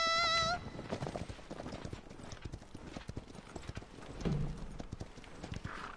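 Horse hooves clip-clopping steadily while riding in the video game Paladins, a continuous rhythmic trot heard alone at moderate loudness, with a brief tonal chime at the start and a faint neigh-like sound later.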